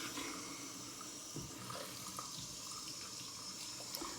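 Running tap water pours into a sink for a rinse after shaving, a steady close splashing hiss with light gurgles, quiet and unbroken, no voices.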